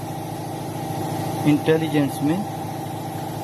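A 2013 Chevrolet Malibu with a 2.4 engine idles after start with an ignition-coil 3 misfire, a steady low mechanical hum throughout while someone talks over it midway.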